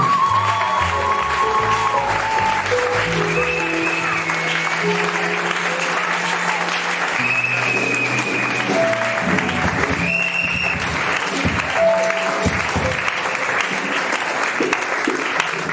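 A church congregation applauds continuously and loudly, with clapping that is dense and sustained over music-like tones, and a few voices rise in the crowd.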